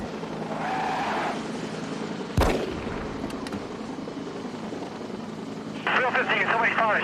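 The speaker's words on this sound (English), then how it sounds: "Somebody fired a shot." A single sharp gunshot cracks out during a nighttime police search for a suspect with a sheriff's helicopter overhead, cutting through steady loud rotor and engine rumble, with voices heard before and after.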